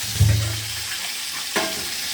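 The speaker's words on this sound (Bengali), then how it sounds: "মাছ ভেজে নিচ্ছি এখন।" Fish fries in a pan with a steady, close hiss of hot oil, broken by a brief clatter partway through.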